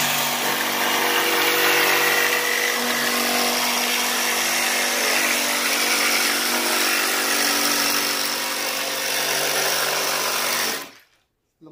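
A power saw cuts through two stacked panels at once, held so they won't shift while tracing old door molds; a loud, steady buzzing whine runs continuously for about eleven seconds, then stops abruptly.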